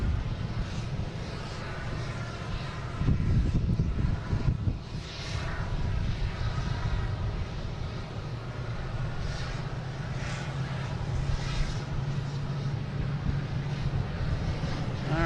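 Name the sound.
Delta airliner taking off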